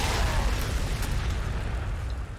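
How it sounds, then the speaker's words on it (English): A frag grenade blows up in the Warhammer 40,000: Sanctus Reach strategy game, a loud, sustained rumbling blast that rolls on for a couple of seconds with no speech over it. "we'll throw a frag here, and we'll throw a frag back there"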